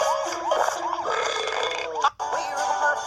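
A long, loud, croaking burp rolls on for about two seconds with a warbling, wavering pitch, then cuts off sharply before another rumbling belch begins, close to the mic, with music or effects underneath.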